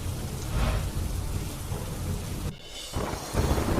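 Heavy monsoon rain pours down steadily in Delhi with rumbling thunder, loud and continuous, briefly dipping before the downpour swells again.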